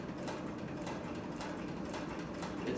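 Cylinder-bed triple-feed sewing machine stitching through four layers of 3 to 4 ounce upholstery leather, a quiet, steady mechanical whir with rapid soft ticking throughout.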